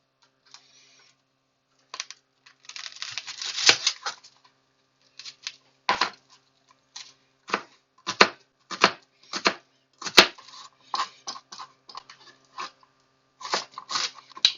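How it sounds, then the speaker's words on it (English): Onion being finely chopped with a knife on a board, a series of crisp close knife strikes in quick bursts and separate single chops, clear against near silence. "we're going to chop up some onion really fine"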